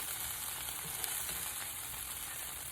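Fresh shrimp fry in hot oil for tacos, a steady close sizzle and crackle with a small pop, continuous and fairly quiet.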